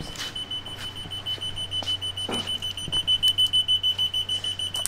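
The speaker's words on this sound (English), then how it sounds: "You're gonna hear a beep at first because we're waiting on an oil pressure sensor." Steady repeating warning beeps from the Dakota Digital gauges in a Ford F100 with a Coyote engine swap, sounding because no oil pressure sensor is fitted yet, pulsing evenly at close range over a low idle hum.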